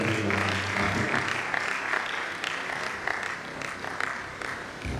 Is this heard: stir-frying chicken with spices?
no